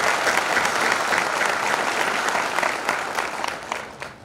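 Loud, sustained applause from an award ceremony audience fills the hall, steady clapping with no talk, easing slightly toward the end.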